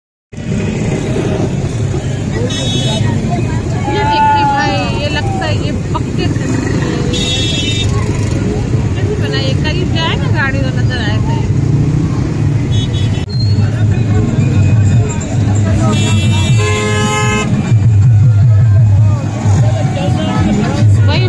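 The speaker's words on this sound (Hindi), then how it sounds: "फुल ट्रैफिक में फंसे हुए हम लोग" Heavy, jammed street traffic in Hyderabad keeps up a dense engine drone with motorbikes, and car horns blare in repeated bursts throughout. People talk and chatter close by.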